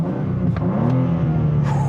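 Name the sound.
2023 BMW M2 inline-six exhaust in sport mode, rumbly pops and bangs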